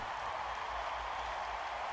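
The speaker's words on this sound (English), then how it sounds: "But why are they cheering me?" Crowd cheering in the video game Red Reaper, a steady dense roar of many voices with applause-like hiss, loud and unbroken throughout.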